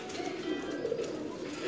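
Pigeons from a Sialkot breeder's loft, a small male and female among them, give soft, low cooing throughout, steady and fairly faint, with a light chirpy texture over a constant murmur.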